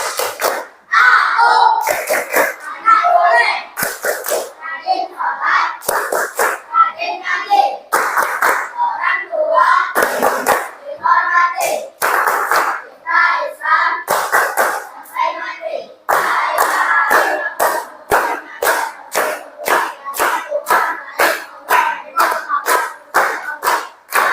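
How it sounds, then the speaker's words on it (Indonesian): Schoolchildren in an Islamic religious-education class perform the tepuk anak soleh clapping chant, loud patterned bursts of hand claps alternating with shouted group chanting, ending in a fast run of evenly spaced claps. "Tepuk anak soleh."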